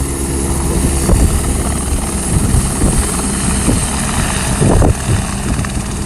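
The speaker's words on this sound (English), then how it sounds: "So you're going to see a little bit of rotor wash." A California Highway Patrol rescue helicopter lifts off from a sandy beach rescue site, its loud, close rotor thrum and engine roar steady throughout, with rushing rotor wash and gusty buffeting bursts.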